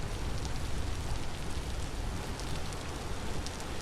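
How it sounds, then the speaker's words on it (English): Heavy rain pours steadily in the game Vintage Story, a dense, even hiss of drops drumming on surfaces that fills the whole short stretch without a break. "It is raining like a son of a gun."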